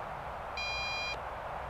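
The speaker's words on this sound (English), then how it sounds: "I wish it had stopped beeping" A handheld MJX Bugs 3 Pro GPS drone lets out a single short, steady electronic beep, clear but moderate in level, over a constant background hiss.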